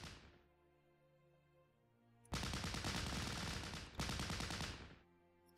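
Bursts of dense automatic gunfire from the war strategy game Close Combat, two long loud rattling volleys back to back after a quieter lead-in, then the shooting cuts off.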